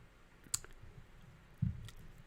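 Two faint, separate computer mouse clicks, as when saving in Microsoft Forms, heard against a quiet room background.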